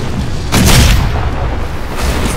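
Deep booming ship cannon shots in the game Risen 3: Titan Lords, one heavy blast followed by a softer second boom, loud and close.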